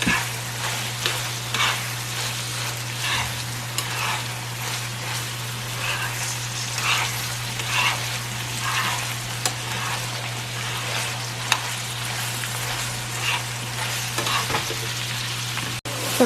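Alcapurria filling with green olives is stirred in a frying pan, a steady sizzle with repeated scraping strokes running throughout alongside a constant low hum, no voices.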